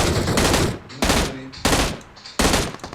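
Loud bursts of automatic gunfire in the mobile battle royale game PUBG Mobile, four sharp volleys spaced close together across a few seconds, each rattling out and fading before the next.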